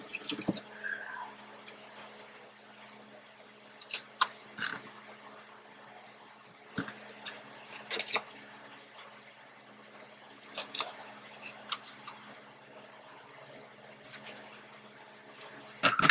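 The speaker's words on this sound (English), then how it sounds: "then I'm just gonna cut this part here." Scissors snipping paper for a mixed-media mini art ledger, a series of short crisp cuts in small irregular bursts, close and fairly quiet, with pauses between snips.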